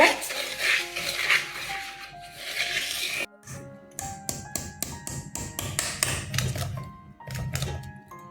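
A spoon stirs yogurt with sugar and salt in a bowl, giving a quick series of light clinks and scrapes against the dish, close up, with tuneful background music playing throughout.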